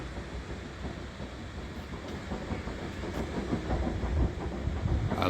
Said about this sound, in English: In the background you can hear them sifting sand.